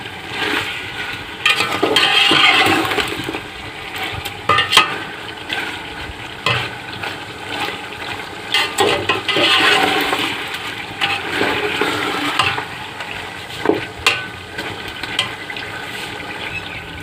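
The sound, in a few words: chicken karahi with masala frying and being stirred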